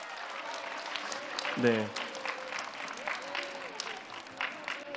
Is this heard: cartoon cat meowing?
no